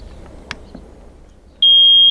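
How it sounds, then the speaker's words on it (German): A Steinbach Poolrunner battery-powered pool robot, held out of the water after its power button is pressed, emits a single steady electronic beep tone of about half a second. A faint click comes just before it. "Und wenn man den außerhalb vom Wasser drückt, dann fängt es an 15 Sekunden zu piepsen."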